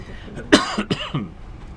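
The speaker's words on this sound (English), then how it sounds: "that little cough just sort of stays in there" A single short cough, close and fairly loud, followed by a couple of softer throat-clearing sounds; no speech.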